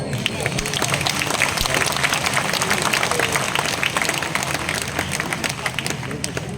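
Sustained audience applause fills a hall during a Hindi kavi sammelan poetry recital, dense and loud throughout with many hands clapping at once and faint crowd babble mixed in.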